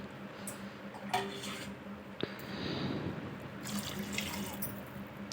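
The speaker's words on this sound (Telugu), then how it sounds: "నాలుగు గ్లాసుల వాటర్ వేసుకోవాలి" Water pours from a glass into a cooking pot of spiced masala for egg biryani, a splashing gush with a few clinks of vessels, close and fairly quiet.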